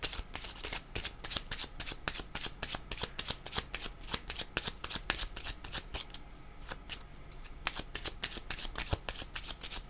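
Oracle cards being shuffled by hand, a close, continuous run of rapid riffling flicks and soft slaps lasting throughout, with no talk.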